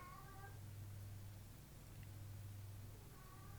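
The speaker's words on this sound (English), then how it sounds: "my cat is so loud right now" A cat meows a couple of times, faint and somewhat distant, over a low steady hum, with quiet stretches between the calls.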